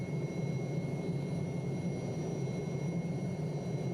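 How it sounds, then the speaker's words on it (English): Steady turbine whine and rotor drone of an Alouette III SA-316B helicopter in a flight simulator, faint and even with a constant high tone and no talking. "Let's switch the engine off and see if we can auto-rotate this thing somewhere."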